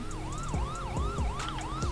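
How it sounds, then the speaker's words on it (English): Police sirens in the GTA V FiveM roleplay game wail in a rapid rising and falling yelp, loud and close with a rumbling vehicle underneath. "Sir, can you please turn off the sirens?"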